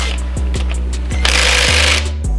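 Power tool working on the cam phaser bolts of a Ford Coyote engine, loud rapid hammering bursts in short repeated runs with brief pauses between, close and alone.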